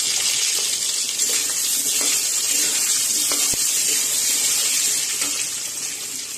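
Peeled potatoes fry in hot oil with a whole cumin tempering for a vegetarian green jackfruit curry, giving a steady, close, bright sizzle with a few faint clicks and pops throughout.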